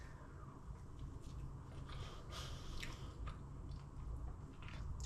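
Close, moist chewing and biting on crusty cheesy bread flavoured with onion, nigella seeds and chili flakes, with soft squishy crunches repeating steadily and no talking.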